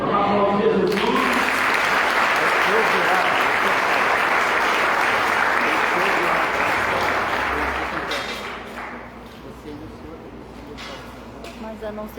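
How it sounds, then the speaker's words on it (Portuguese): A church congregation applauds loudly and continuously, a dense wash of many clapping hands that fades after about eight seconds into scattered claps and quieter room sound. "Vamos aplaudir Jesus."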